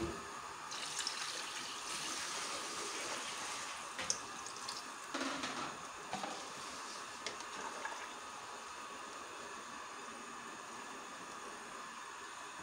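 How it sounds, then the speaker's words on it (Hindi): Water is poured into a pot while cooking paya, a soft steady gushing stream with a few brief clinks and splashes early on, faint and continuous, with no talk. "अब इसे थोड़ा सा हिला के इसमें मैं पानी डालना है।"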